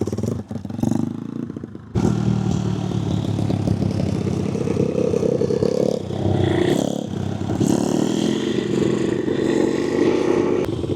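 A pit bike engine revs hard and close while the rider runs through the gears, a loud continuous buzzing drone whose pitch climbs and drops with each shift after a short pause near the start.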